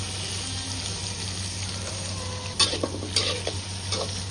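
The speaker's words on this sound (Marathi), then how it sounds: "याच कढईमध्ये कांदा आणि टोमॅटो ग्रेव्हीसाठी थोडंसं फ्राय करून घेणार आहे" Onion and tomato fry in a little oil in a wok for a gravy, a steady low sizzle under a constant background hum, with a few louder stirring scrapes and clatters near the end.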